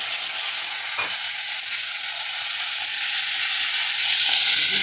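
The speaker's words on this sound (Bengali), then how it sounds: "এবার পেঁয়াজটা একটু ভাজা ভাজা হয়ে গেছে" Onion paste frying in oil with dry red chillies, bay leaves and whole cumin, a constant close sizzle with a faint scrape of stirring, steady and without talk.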